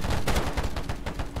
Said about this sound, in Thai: เพื่อนไล่ยิงแหลกเลยอ่ะเ